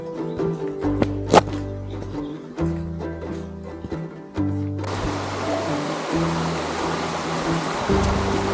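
A small moorland stream in the Mendip Hills, near Burrington Combe, starts partway through and becomes a steady, close rush of flowing water. Quieter, scattered tonal sounds come before it.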